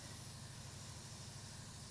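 An airbrush sprays paint in a soft, continuous, faint hiss, steady and unbroken while fantasy art is being painted.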